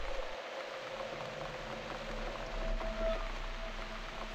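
A microwave oven in The Cat Lady video game runs with a steady, even hum and faint hiss throughout, with no talk, ending in a sudden click.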